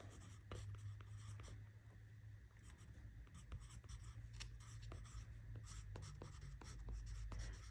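A Kaweco Sketch Up clutch pencil with a wide lead scrapes softly across paper in steady, close strokes. A low hum sits under it, and the pencil sound is quiet and continuous.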